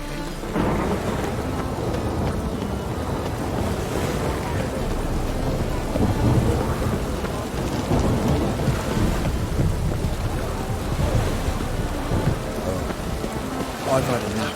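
Steady rain pours in a video game thunderstorm, The Witcher 3, with low rolling thunder swelling and fading beneath the dense, even patter for the whole stretch.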